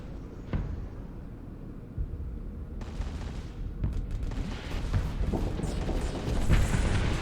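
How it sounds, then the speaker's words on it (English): A spaceship blows apart in the space combat game Starsector, with a sharp crack followed by a chain of rumbling booms and crackling blasts that grow louder and denser toward the end, with no talk. "They have a pretty explosion as well."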